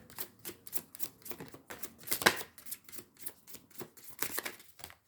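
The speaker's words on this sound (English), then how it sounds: "Just do one more shuffle." Angel number cards being shuffled by hand, a rapid series of crisp papery flicks and riffles in an irregular rhythm, close and fairly quiet with no talking.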